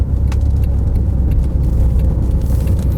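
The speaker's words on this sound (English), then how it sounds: "you can hear that V6 humming away" A steady, loud V6 engine hum drones continuously from inside a Citroen XM, low and even, with no voices.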